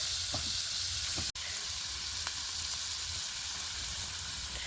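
Cut potatoes for a meat curry frying in a wok (kadai), giving a steady close sizzle and hiss with a few faint stirring clicks and one brief dropout.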